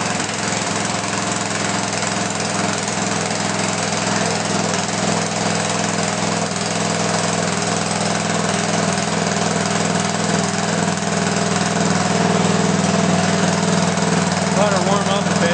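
Lawn mower engine started cold and left idling at a low throttle setting, a steady loud droning rumble with slight vibration that holds constant throughout, a brief mechanical rattle near the start.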